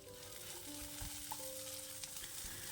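Sliced onions soften in a pan over a low flame for a potato masala side dish, giving a faint, steady sizzle with a few soft stirring clinks and no talk.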